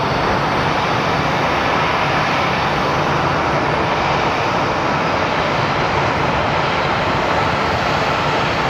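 An airliner lands at Phoenix airport, its engines making a loud, steady broadband roar that holds unbroken and close throughout, with no talk.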